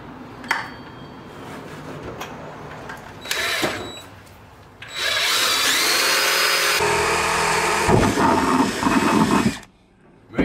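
A power drill whines loudly in steady bursts while drilling through a plastic bucket, revving up and biting in, with a brief lull before a long continuous grinding run that cuts off abruptly.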